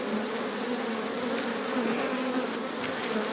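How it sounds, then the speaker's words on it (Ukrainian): Honey bees buzz steadily at a hive, a dense, continuous hum with many wings at once, close and fairly loud, with no voices. "Працює бджола, бджола працює"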